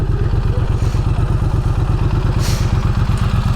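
Triumph Street Twin motorcycle engine idling through its stock exhaust, a steady, loud, even low-pitched thump pulsing rhythmically throughout, heard alone and close by.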